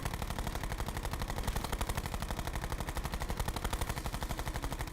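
A machine gun fires a fast, continuous, evenly paced burst of shots in the game Call of Duty Black Ops 4, loud and close throughout.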